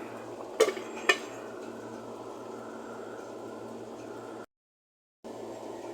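A lid is set onto a pot of fish curry with two quick metallic clanks near the start, followed by a steady low hum and kitchen hiss, with a brief dropout of silence near the end.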